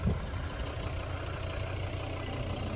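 A Volvo V with a D3 110 kW diesel engine and Aisin automatic, 2012, idles steadily at close range, a low continuous rumble with no voices over it.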